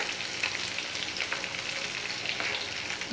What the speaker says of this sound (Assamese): অকণমান এনেকৈ ভাজি ল'ম জ্বলাখিনি আৰু পাঁচফোৰণখিনি